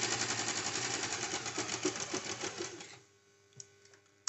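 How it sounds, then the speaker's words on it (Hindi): A sewing machine stitches cigar pants in a fast steady rattle of needle strokes for about three seconds, then stops, leaving a quiet hum and a few small clicks. "आप इस पर डबल सिलाई भी चला सकते हैं।"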